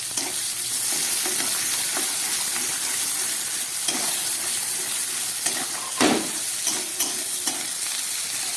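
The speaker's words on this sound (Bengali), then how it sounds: "পেঁয়াজটাকে খুব ভালো করে একটু ভেজে নেব।" Sliced onions fry in hot oil with bay leaves and cumin seeds, a steady close sizzle with crackles, over which a utensil stirs in soft scrapes and taps throughout.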